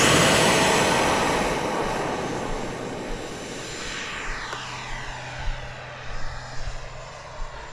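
A T-7A trainer jet's engine roars loudly through its takeoff run, a broad steady rush that slowly fades and thins as the aircraft climbs away, with a few faint thumps near the end.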